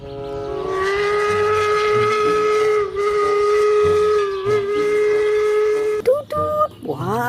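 Toy train locomotive steam whistle, a loud sustained tonal whistle held for about six seconds over a faint rumble, then a few short sharp toots and a rising squeal at the end.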